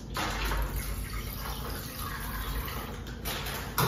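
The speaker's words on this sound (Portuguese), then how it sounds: "Aqui com água" Water mixed with bleach and washing powder for cleaning a bathroom, a steady loud splashing, pouring rush that continues without a break, with no talking over it.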